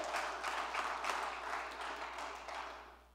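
Church congregation applauding throughout, a dense steady patter of many hands at moderate distance that thins and fades toward the end, with no talk over it.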